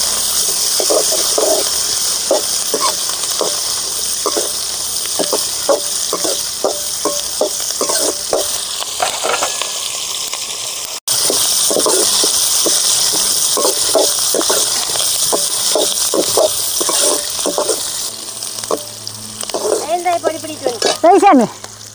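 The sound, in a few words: big onions frying and being stirred in a pan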